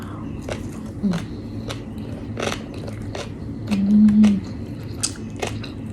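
Someone eats spicy Lao-style papaya salad with shrimp close to the mic, with repeated crisp bites and wet chewing crunches at an irregular pace over a faint background hum.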